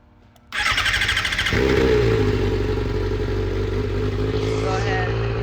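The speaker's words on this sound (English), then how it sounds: "now I'm gonna go ahead and start it up so the air bubbles go through" A Kawasaki ZX6R motorcycle undergoing a rebuild cranks briefly and fires up close by, settling into a loud, steady idle with a mechanical clatter, and the pitch briefly lifts near the end.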